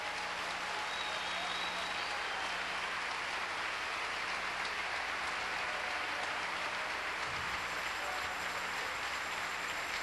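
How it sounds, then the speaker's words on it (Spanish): A church congregation applauds during a Spanish-language sermon, a steady broad patter of clapping sustained evenly for the whole stretch, with a faint low hum running beneath. "Un aplauso para él."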